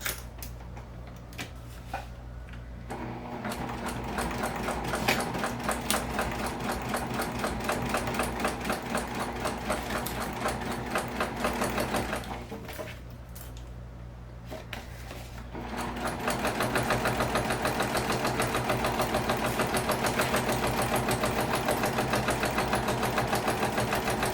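A sewing machine stitches a seam on a sling bag, running in long rapid bursts of close mechanical clatter. The runs are split by two short pauses.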